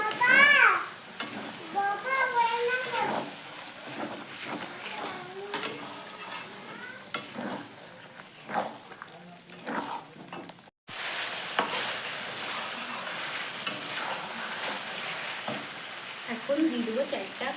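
Chicken kosha sautés in its own released juices in a pan, producing a steady sizzle with some louder bursts. Faint voices, including a child's, can be heard in the background early on.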